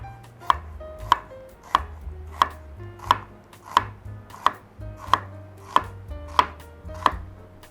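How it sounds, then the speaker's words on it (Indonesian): A knife slices lengthwise through an onion on a cutting board, about eleven crisp, evenly spaced cuts close and clear, with no talking. "Oke, kita akan potong bawang bombaynya. Kita motongnya memanjang."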